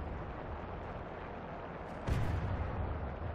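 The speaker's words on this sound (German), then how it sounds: "Soll ich Artillerie draufhauen?" Artillery fire in the War Thunder tank game: one heavy, distant boom lands over a constant rumbling engine and battlefield bed.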